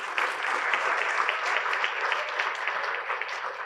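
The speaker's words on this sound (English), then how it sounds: "Big round of applause for Asha." A live audience at a forum's opening session claps steadily in a dense, even burst of applause with no talking over it.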